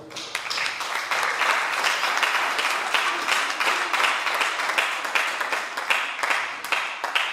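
A church congregation applauding, dense sustained clapping from many hands filling the room at a steady, lively level for several seconds, with no clear voices over it.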